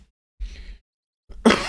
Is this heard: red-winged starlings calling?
no